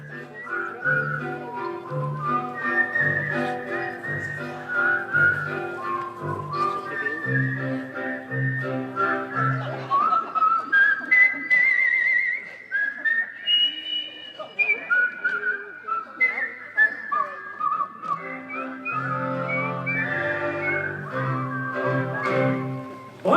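A person whistles a lively, wavering melody at moderate volume, the tune sliding between high notes with short pauses, over a steady low accompaniment.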